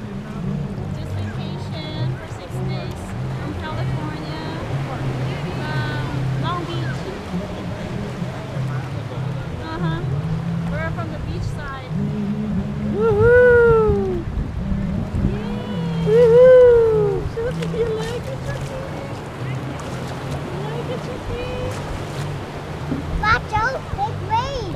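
Ocean water sloshes and rushes around a paddled boat off Huntington Beach, a constant wash with a couple of stronger wave surges, while adults and someone talk and exclaim over it.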